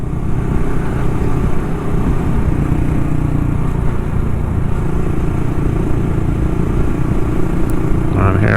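Honda Monkey motorcycle fitted with an aftermarket exhaust and intake, engine pulling steadily up through the gears to about 35 in third, a continuous loud droning motor with little change in level throughout.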